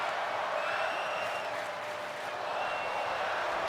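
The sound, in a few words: crowd chanting "fight forever" in WWE 2K24 video game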